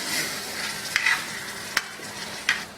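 Chicken piccata sauce thickened with flour boils in a sauté pan, giving a steady soft sizzle and bubbling with a few sharp clicks of stirring, heard alone with no talk.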